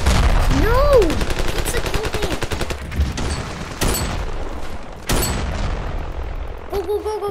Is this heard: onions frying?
no